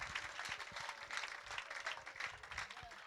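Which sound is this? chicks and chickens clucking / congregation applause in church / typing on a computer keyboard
congregation applause in church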